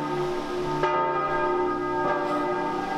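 Church bells in Switzerland peal with ringing, overlapping tones, two fresh strikes renewing the resonant hum, clear and sustained.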